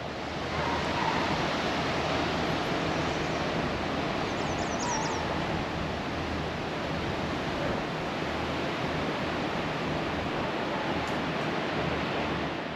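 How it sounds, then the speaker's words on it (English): Tahquamenon Falls in Michigan pours steadily, a dense, unbroken roar of falling water heard up close from the boardwalk, loud and constant with no talk over it. "right here you can see two different falls"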